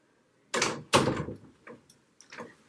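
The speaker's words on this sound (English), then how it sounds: "And there's TT knocking at the door already." A pet knocks at a door: two loud, close thumps followed by a few softer, scattered taps, in an otherwise quiet room.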